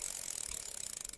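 Bicycle freewheel ratchets in a rapid, even string of soft mechanical clicks, close and quiet, with no voices.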